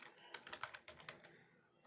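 Rapid clicking of computer keys typed at a steady pace during a MySQL database lab session, about a dozen distinct close keystrokes in a quiet room with no talking.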